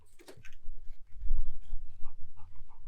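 A four-year-old dog pants rapidly and whimpers up close on a hot day at an outdoor firepit, with breathy huffs and low snuffling throughout.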